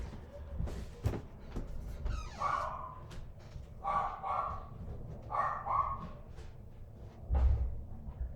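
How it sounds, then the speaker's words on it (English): A dog barks indoors in a few short bursts some distance off, moderately loud against a quiet room with faint knocks and shuffles. "my dog is barking."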